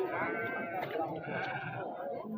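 A pregnant sheep bleats at a busy livestock market in Ngadirejo, Temanggung, a wavering drawn-out call heard under people talking nearby.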